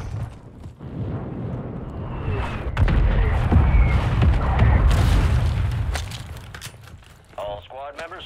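Mortar strikes land in a Warzone 3 battle royale match, deep rumbling booms swelling over several seconds among gunfire, footsteps and game noise, with people talking over the action.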